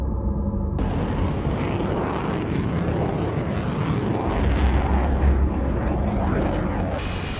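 A fixed-wing airplane on final approach with landing gear lowering, a loud, steady engine roar with a broad rumbling wash that holds throughout and swells slightly near the end.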